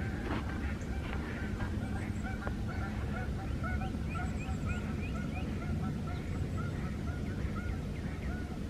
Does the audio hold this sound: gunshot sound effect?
no